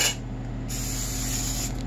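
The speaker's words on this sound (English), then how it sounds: "A little of the spray." A short, close hiss of cooking spray onto a pan, steady and continuous for a couple of seconds, over a low background hum.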